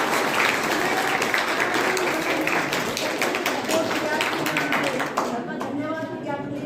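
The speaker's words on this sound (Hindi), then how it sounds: "और पवन सर के लिए जोरदार तालियां।" Loud, sustained applause from a college gathering in Nainidanda, a dense crowd clapping for several seconds that thins toward the end, with a voice speaking over it.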